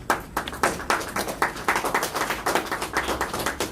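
Participants at a democracy round-table forum clap for themselves, a close, loud burst of individual claps in a loose, uneven rhythm that stays fairly sparse throughout.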